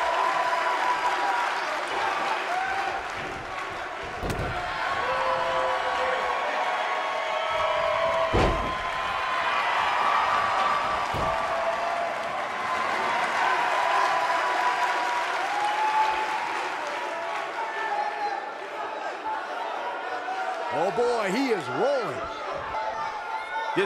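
A capacity crowd at a wrestling match applauds and cheers continuously, with thuds from the ring and a commentator talking over the roar.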